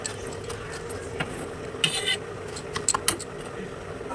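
A spoon stirs half a spoonful of ghee into cooked rice in a pot while making nolen gur payesh, giving a few soft scrapes and light metallic clinks against a quiet kitchen background.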